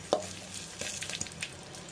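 Asafoetida, dried chillies and a bay leaf hit hot oil in a pan for lauki do pyaza, giving a short burst of sizzling and crackle with a few stirring clinks, close and fairly loud, no talk.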